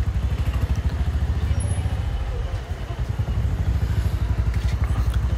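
A motorcycle rides along a city road in Guwahati toward Beltola Chariali, its engine thrumming steadily up close with wind and passing traffic around it.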